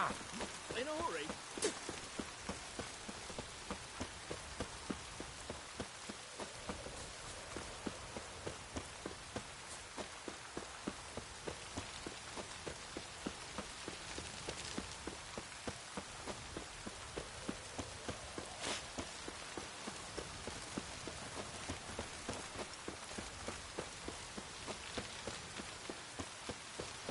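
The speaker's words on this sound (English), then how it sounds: "Looks like rain." Steady rain patters on surfaces in Witcher 3, a soft continuous hiss with faint droplet ticks throughout, while a voice speaks briefly over it.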